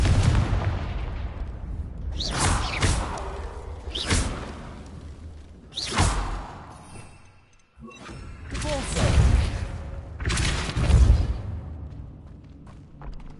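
Several loud, booming spell blasts from the Confringo fire spell in Hogwarts Legacy, each a sharp burst with a whooshing tail, spaced a couple of seconds apart over a busy game soundscape.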